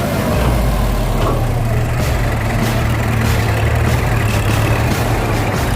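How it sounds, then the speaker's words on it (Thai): A Ford 7610 farm tractor, a Series 10 model, runs steadily close by, its loud continuous engine rumble filling the whole stretch without pause. "รถไถนะครับมือนี้รถไถฟอร์ดพี่น้อง เจ็ดหกหนึ่งศูนย์เอ็ดตระกูลซีรีส์สิบนะครับ"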